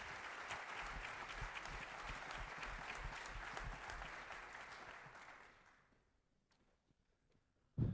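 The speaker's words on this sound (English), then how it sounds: "So let's give them another round of applause" Audience applause at a school board of education meeting for girls' cross-country runners, a dense steady roar of many hands that fades out over the last few seconds into near silence, then a brief knock at the very end.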